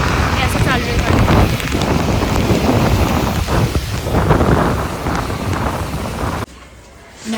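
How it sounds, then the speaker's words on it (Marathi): Heavy rain pouring down outdoors, a loud roaring wash mixed with wind buffeting the microphone, cutting abruptly to a quieter hiss near the end. "आज जोरदार पाऊस चालू झाला"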